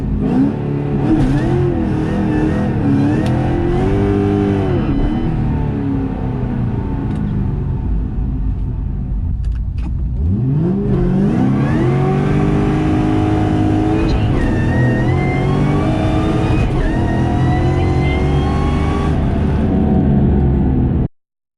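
A Ford GT500 with a drag pack roars at full throttle on a no-prep drag run, revving hard to about 6500 RPM. A gear shift breaks the engine's note halfway before it climbs again, close and loud throughout.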